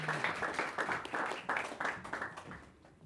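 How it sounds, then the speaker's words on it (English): Audience clapping to welcome the next guest at a talk event, a burst of hand claps in uneven waves that tapers off toward the end, moderately faint. "clap your hands for our next guest"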